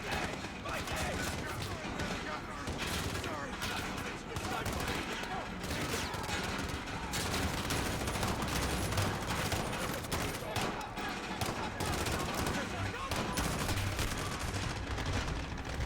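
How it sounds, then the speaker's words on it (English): Mortar fire in Call of Duty Modern Warfare rumbles as dense, continuous explosive barrage and gunfire, loud and unbroken throughout with no clear gaps. "Who's firing the mortars?"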